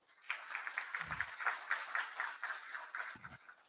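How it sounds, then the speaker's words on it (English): An audience at a university graduation ceremony applauds, a fairly faint, steady patter of clapping lasting a few seconds without speech. "round of applause for Professor Paul."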